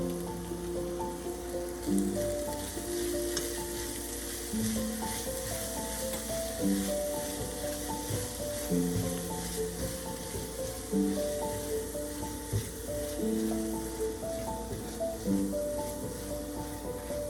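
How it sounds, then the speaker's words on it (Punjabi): Kashmiri red chilli and turmeric roasting in a pan for aloo matar, giving a steady sizzle with light stirring scrapes that run continuously at close range, with no talking. "ਹੁਣ ਅਸੀਂ ਮਸਾਲੇ 1 ਮਿੰਟ ਭੁੰਨ ਲਵਾਂਗੇ ਜੀ"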